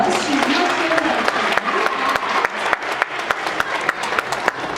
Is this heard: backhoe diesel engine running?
no